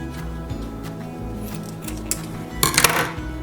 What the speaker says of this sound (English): So now I'll just take some scissors and cut off the end.